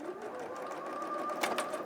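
A domestic sewing machine stitches quilt blocks with a steady, close whirring hum that runs throughout, with no talking.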